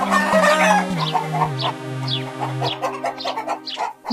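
Cartoon chickens in a farm coop cluck and squawk in rapid, agitated bursts over a sustained tonal music bed, loud and close.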